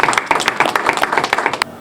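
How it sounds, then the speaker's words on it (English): Audience applause after an ambassador's speech at a Pan-African dialogue, a dense burst of many hands clapping loudly and steadily for under two seconds before cutting off abruptly. "please give yourself a big round of applause"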